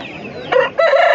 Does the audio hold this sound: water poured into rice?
no